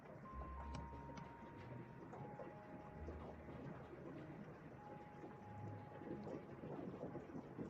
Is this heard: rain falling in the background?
yes